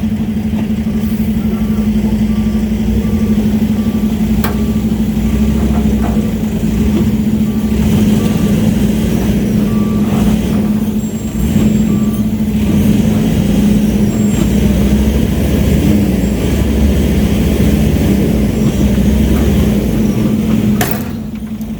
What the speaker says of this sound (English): So the first try we're going to do is pulling him in reverse